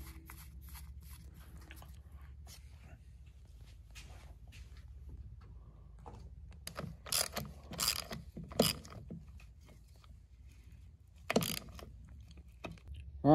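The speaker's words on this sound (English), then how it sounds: "Got our nut that we're going to tighten down." Nut being tightened by hand tools on a Polaris Ranger 570 transmission output shaft, giving a few quiet scattered metallic clicks and ratchet-like snaps over low background hum.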